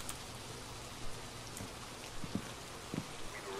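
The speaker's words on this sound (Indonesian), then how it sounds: "Hujan" Rain falls in Phasmophobia as a faint, steady hiss with occasional soft drops and thumps, with no voices.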